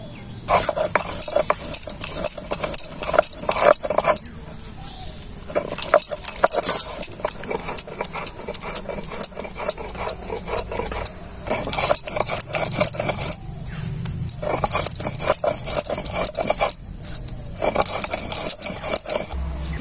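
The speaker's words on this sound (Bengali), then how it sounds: "এরপর আমি ভাজা মশলাগুলো বেটে নেব শিলনোড়াতে" Fried spices such as green chilli and ginger being ground on a shil-nora stone slab, a steady scraping and rolling rasp with repeated gritty strokes and brief pauses, close and fairly loud throughout.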